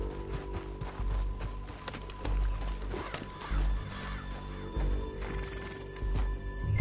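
Rhythmic hoofbeats of a galloping horse in the video game Red Dead Redemption 2 pound steadily over a droning background, with occasional heavier thuds.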